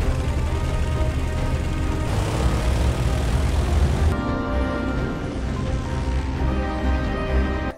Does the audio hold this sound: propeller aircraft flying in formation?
yes